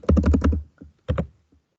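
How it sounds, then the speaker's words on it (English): Quick keystrokes on a computer keyboard come in a fast, close cluster, pause, then return as a shorter burst of taps. "Let's type it out."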